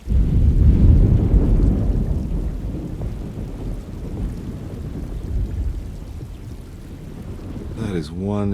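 Thunderstorm ambience from the game Alone in the Dark: heavy rolling thunder rumbles low and loud at first, then fades to steady rain; a brief synthetic tone sweeps in at the very end.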